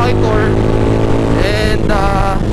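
A motorcycle engine drones steadily while riding, with wind buffeting the microphone, a continuous loud hum under which a voice talks briefly.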